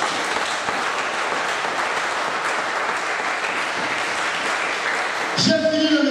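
A church congregation applauding to acclaim the Lord, a dense, steady wash of clapping from many hands that fills the space and ends with a brief swell of voices.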